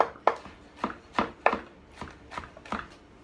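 A kitchen knife chops vegetables for a roasted salsa on a cutting board, with about eight crisp, distinct thuds in an uneven rhythm, close and clear with no talking.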